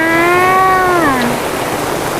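Steady rain falls at a campsite as an even, hissing wash, with a brief rising-and-falling tonal cry near the start that then fades beneath the downpour.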